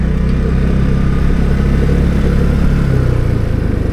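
A Vespa scooter's small engine drones steadily through its standard exhaust with a low, buzzing note, close and continuous, holding a fairly even pitch throughout.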